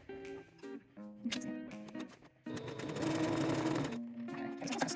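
A secondhand sewing machine stitches a buttonhole in quick, close mechanical bursts of rhythmic whirring. Short stops break up the runs, then a longer, denser run follows.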